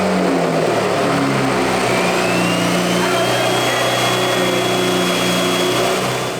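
Tuned BMW engine running after being started with a new valve cover fitted, a loud, steady mid-pitched drone with a faint rising whine, close and continuous throughout.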